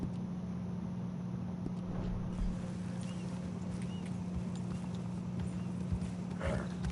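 In Red Dead Redemption 2, a horse's hooves clip-clop in a steady walking rhythm, fairly near and moderately loud, over a low steady background hum.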